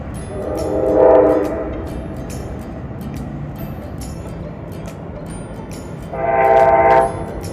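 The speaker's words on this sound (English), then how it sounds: "you can hear them as they blow their horn while they go by" A train rumbles past steadily while its horn sounds twice, one long blast near the start and another near the end, fairly loud over the rolling noise, in Glen Cove, San Francisco Bay Area.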